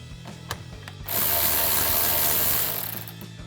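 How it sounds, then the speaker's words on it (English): A ratchet with a 12mm socket turns a battery terminal nut on a 2019-2024 RAM 1500. A few faint clicks come first, then a steady, loud, close ratcheting rasp holds for about two seconds before it tapers off. "I'm taking a 12mm socket for this nut"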